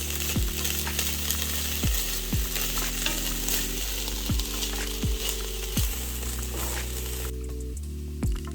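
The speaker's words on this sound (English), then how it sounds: "just give it a little mix" Garlic is stirred in a cooking pot over steady sizzling frying, with a few soft scraping strokes of the spoon against the pot.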